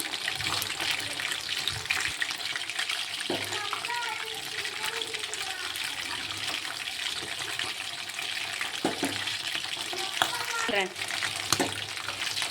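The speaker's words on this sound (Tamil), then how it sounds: "சிக்கனை ஆட் பண்ணிவிட்டு ஆயிலில் நல்லா வெந்து வரட்டும்" Chicken pieces for chicken 65 deep fry in oil with a constant bubbling hiss, while a voice talks intermittently over it and occasional knocks and stirring sounds break through.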